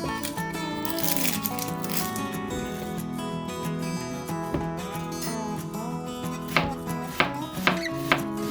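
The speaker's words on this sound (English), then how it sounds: "When your onions are chopped" A knife chops a red onion for quick pickled red onions: a run of rapid board taps under continuous background music, with a few sharper, louder strikes near the end.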